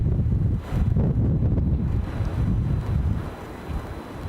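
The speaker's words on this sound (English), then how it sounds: "That judder you got just there, that is literally the wind lifting things." Strong wind gusts buffet the microphone at Edinburgh Airport, a loud, low rumbling roar that swells and eases in waves without any voices.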